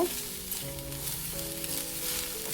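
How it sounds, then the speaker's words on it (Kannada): Capsicum being stirred in a hot pan on a stove with the flame just turned off gives a soft, steady sizzle with faint scraping movements, quiet and close with no talk. "ಫ್ಲೇಮನ್ನು ಆಫ್ ಮಾಡಿಕೊಂಡೆ ಕ್ಯಾಪ್ಸಿಕಮ್ನ ಹಾಕೋಬೇಕು ನೋಡಿ ಇವಾಗ ಇದೆರಡೂ ನೀಟಾಗಿ ಮಿಕ್ಸ್ ಮಾಡ್ಕೊಳ್ಳೋಣ"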